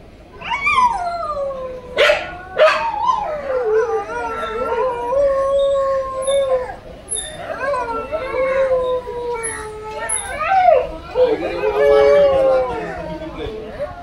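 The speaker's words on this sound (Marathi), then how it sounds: "खाली कुत्री भुकतायत ना" Dogs howl in long rising and falling wails near at hand, joined by sharp yips and barks, overlapping almost continuously throughout with short louder bursts.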